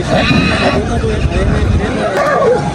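A horse whinnies at a horse market, loud and close, amid a noisy crowd with someone talking over it throughout.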